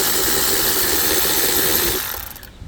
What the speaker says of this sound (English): Get my wrench working here.